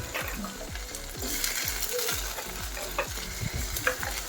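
Thin-sliced potatoes fry in ginger garlic paste, a busy close sizzle punctuated by rapid, rhythmic scrapes and clacks of a spatula stirring against the pan, with no voices.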